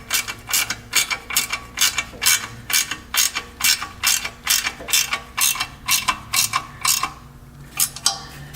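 A ratchet wrench clicks in a steady, close rhythm, around sixteen quick ratcheting strokes with no talk, tightening bolts on a Grand Guard fitted to a Kubota 6060 tractor.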